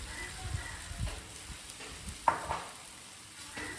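Gravy masala sautéing until brown for a soya bean roast, a soft continuous sizzle with occasional stirring scrapes, fairly quiet and close.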